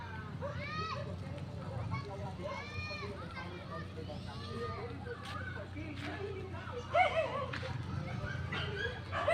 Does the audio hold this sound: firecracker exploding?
no